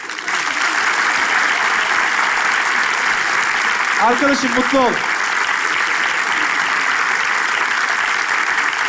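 Studio audience applauding as a musician walks on stage, a dense continuous clapping roar that fills the whole clip, with a brief spoken line from a man partway through.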